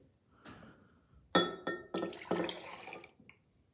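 Water is tipped out of a 250-millilitre container into a big jug, a few glassy clinks followed by a short, splashy pour that is loud and close, with no talking.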